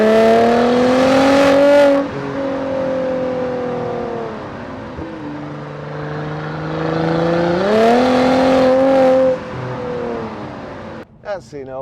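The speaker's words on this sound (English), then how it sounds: "I might just cut that bit of exhaust noise in." Exhaust and engine note of a 2016 Mercedes-AMG C43 4MATIC 3.0 with paddle-shift automatic, droning loud and close with rising revs and shifts across the gear changes before a sudden drop near the end.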